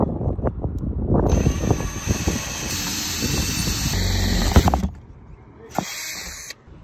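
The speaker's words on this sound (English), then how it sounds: "drilling straight through the roof." Drilling through a van roof: a loud, close power-drill whine starts after a moment of handling noise, runs steadily for several seconds, stops, then gives a brief second burst.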